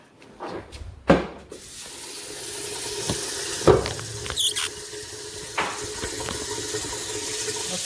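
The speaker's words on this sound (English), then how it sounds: "So let's go ahead and take the camera over to the sink and wash it." Glutinous rice for suman is washed in a kitchen sink: steady running water with scattered splashes and grainy rustling close by, no talk.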